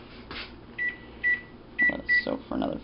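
A kitchen timer being set for fifteen minutes during stovetop garlic water preparation, giving a series of short electronic beeps in irregular bursts, close and moderately loud over faint room noise.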